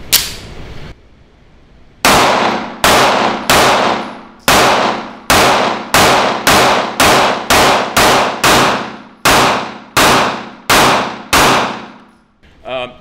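Shots from a 1911 pistol loaded with hollow points come as a string of about fourteen loud, sharp cracks fired at a steady pace, each ringing out briefly. Some quieter handling sounds come before the first shot, and no one speaks.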